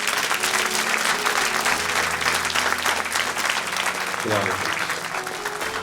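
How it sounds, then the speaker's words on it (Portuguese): A church congregation claps steadily through a service in a hall, dense sustained applause while a voice speaks and calls out over it. "Você pode aplaudir o nome do Senhor Jesus?"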